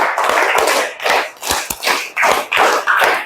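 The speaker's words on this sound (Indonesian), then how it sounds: "Tepuk satu. Dua kali tepuk lima." A class of students clapping hands together in a counted classroom clapping game led by a teacher, a loud close sequence of sharp unison claps in an uneven rhythm, some single and some in quick pairs, with brief gaps between.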